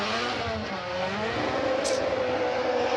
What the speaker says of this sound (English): The S15 4-rotor twin turbo, screaming through outer zone 1 right now